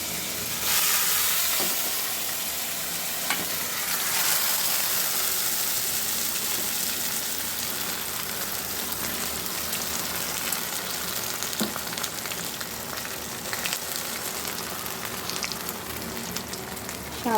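Soaked sago pearls sizzle and hiss in a pan after a reddened spice tempering, stirred with steady scraping and crackling that stays close and fairly loud throughout, with no voices.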